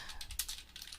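Quiet, quick keystrokes on a computer keyboard while entering code in the Microsoft Access code builder, a short run of soft clicks at close range with no speech.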